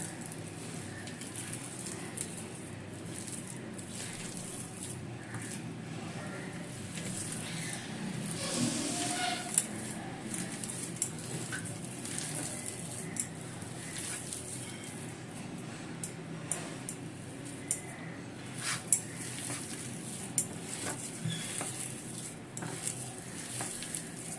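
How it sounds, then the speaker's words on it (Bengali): Green banana kofta mixture being kneaded with spices by hand in a home kitchen, soft squishy mixing and occasional light clinks of a bowl or utensil, steady and fairly quiet throughout, no talking. "সব কিছু দিয়ে ভালো করে মেখে নিচ্ছি, যাতে ডেলা না থাকে।"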